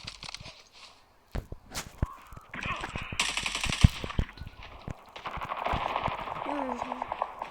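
Bursts of automatic and single gunfire from the Call of Duty video game, sharp repeated cracks spread across the clip over a busy battle soundscape with in-game voice chatter.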